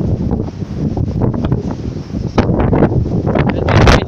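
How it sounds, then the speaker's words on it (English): Wind gusts roar loudly across the microphone at a covered bridge by a feed mill, a rough continuous rumble that swells toward the end. "It's windy"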